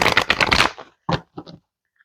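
Moonology oracle cards being shuffled: a quick riffling burst of rapid card flicks, then two brief separate taps as the deck is squared, close and alone in a quiet room.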